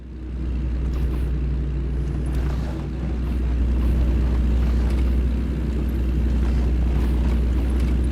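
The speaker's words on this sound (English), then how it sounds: "Please tell me trucks don't really make this noise when you're turning." A heavy truck engine in American Truck Simulator drones low and steady through a turn, a constant rumble with a faint whine above it and no voices.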